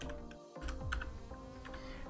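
Computer keyboard typing while entering an effect name in editing software, a quick run of light clicky keystrokes over a steady background hum, close and moderately quiet.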